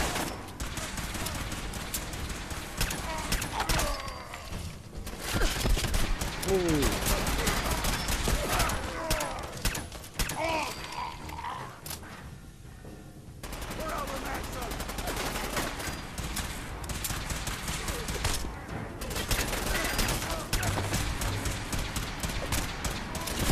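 Gunfire in the video game Fallout 4, sustained rattling volleys and scattered shots through a loud combat din, easing briefly in the middle before resuming, with occasional voices.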